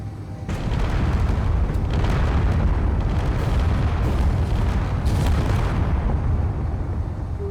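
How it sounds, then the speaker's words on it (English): Bombs dropped from a B-29 Superfortress in the game Space Engineers produce a continuous, heavy rumbling roar of overlapping explosions that holds steady and loud for several seconds. "Bombs away."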